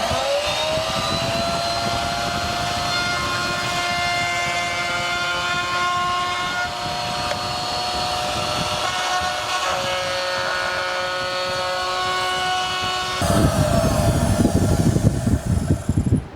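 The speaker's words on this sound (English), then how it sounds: "now I'm going to take it to the router table over here, the little router table, and put a 1/4 inch round over around all of the outside edges" A small router table rounds over wooden edges with a 1/4 inch round-over bit, its motor a loud steady whine held for most of the stretch, then a rougher, louder cutting roar near the end as the wood meets the bit.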